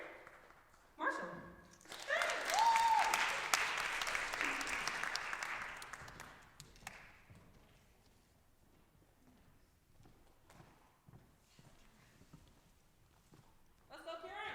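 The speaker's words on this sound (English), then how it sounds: "Give a warm round of applause for our fellow Scott, Karen Marshall" Audience applause for bagpiper Karen Marshall, a broad burst of clapping rising quickly, holding strong for about five seconds, then thinning into scattered claps and murmuring; a voice returns near the end.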